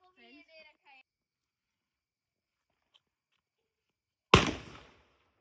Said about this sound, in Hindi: तो फाइनली अब मैं बुलेट बम फोड़ने जा रही हूँ।